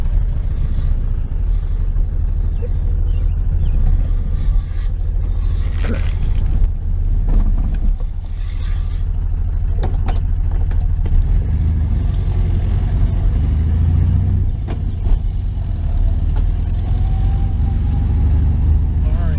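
A 1973 VW Super Beetle on a test drive after a front brake bleed, its engine drone and road rumble steady and close throughout with a low, continuous hum.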